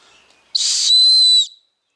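A single sharp, shrill blast from a small, cheap survival whistle held for about a second, loud and close, with a brief rushy breath at the start, then silence.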